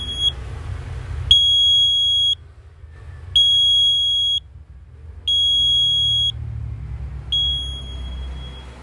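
A futsal scoreboard timer buzzer sounds a series of four loud, piercing electronic beeps, each lasting about a second with even pauses between, over a low background rumble and a fainter final beep.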